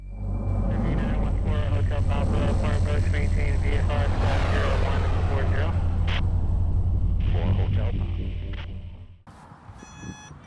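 RC model P-63 Cobra airplane on its maiden flight, a steady buzzing propeller drone running loud and close for most of the clip before cutting off near the end, with some background noise.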